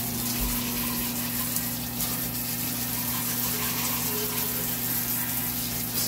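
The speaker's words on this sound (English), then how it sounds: "It's pure hot water." Hot water streaming from a shower onto monitor parts laid face down on a shower floor, a steady loud hiss and splatter of spray that runs continuously without pause.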